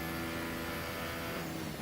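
A Formula 1 car runs flat out in 7th gear on the Chinese Grand Prix circuit, a steady high-pitched engine whine that sounds faint and continuous, with no voices.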